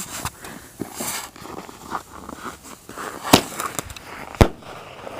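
Fireworks pop and bang at a distance, a few sharp louder cracks standing out among scattered softer bursts, with light crackling between.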